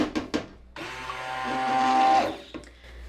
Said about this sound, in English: I have a new stick blender and it's the All Clad